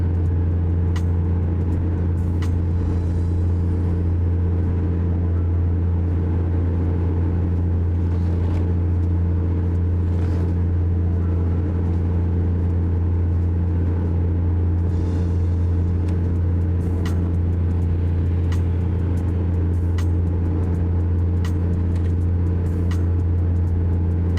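A loud, steady low engine drone inside a truck cabin in American Truck Simulator, humming continuously with faint clicks and rattles.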